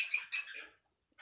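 Budgerigars chirping at feeding time, a cluster of bright, high twittering calls close by, followed by a short chirp and another starting after a brief gap.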